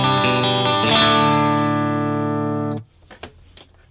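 Electric guitar through a Friedman BE100 Deluxe tube head on the Plexi channel with the bright 2 switch, a loud, sustained, crunchy chord ringing for a few seconds before being cut off, followed by faint string and handling noises.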